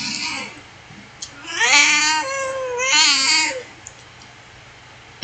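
A pet cat meows and yowls loudly indoors, a short call followed by two long drawn-out cries, close to the listener.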